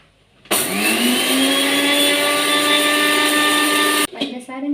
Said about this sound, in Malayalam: ആദ്യം നമുക്ക് പഞ്ചസാര പൊടിച്ചെടുക്കാം.